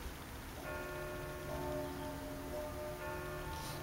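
Church bells from a bell tower by Lake Constance in the evening, faint distant tones ringing in overlapping rhythmic strokes above a low background hum, with no talking.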